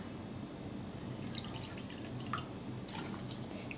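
Water trickles and drips into finger millet (ragi) flour for a village-style porridge, a faint close pouring with scattered drip sounds and no talk.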